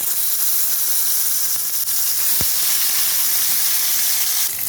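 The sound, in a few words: puti fish frying in hot oil in a wok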